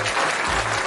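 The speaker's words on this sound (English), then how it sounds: "give me a round of applause" Applause from a live audience at a pregame discussion show ahead of a Seahawks vs 49ers football game, a dense burst of clapping that fills the short moment at steady loudness.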